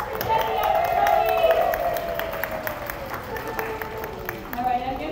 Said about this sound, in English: Big round of applause for Jenny, everybody!